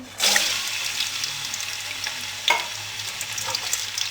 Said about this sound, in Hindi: अब इसमें बारीक कटे हुए प्याज डाल देंगे, 2 अदद बड़े साइज के